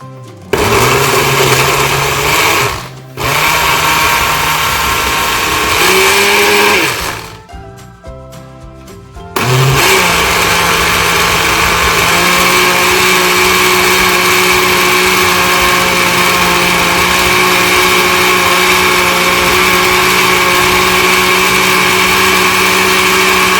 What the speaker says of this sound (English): we just put a little bit of orange juice and we're gonna blend this up